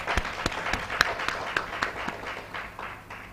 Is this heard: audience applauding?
yes